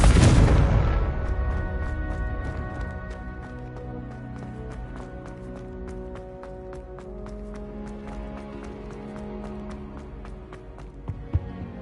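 A Confringo explosion spell cast in Hogwarts Legacy: a loud blast at the start, then a long ringing, tonal decay with scattered crackles and a small thump near the end.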